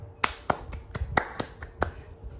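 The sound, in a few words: class clapping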